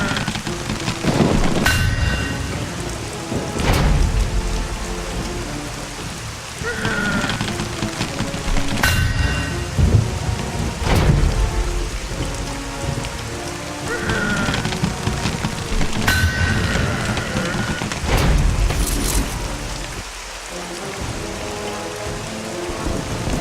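Steady heavy rain with rolling thunderclaps in the video game The Cursed Crusade, loud and continuous, with repeated sharp cracks and booms over the downpour.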